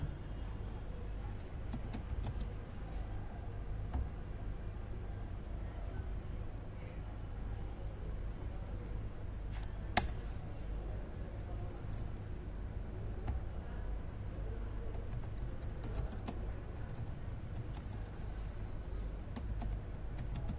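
Computer keyboard typing an email, a steady run of soft, quiet key clicks over a low background hum, with one brief sharp tap partway through; no one speaks.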